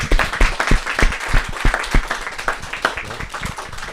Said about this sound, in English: could I ask everybody to join me in a round of applause for JP&O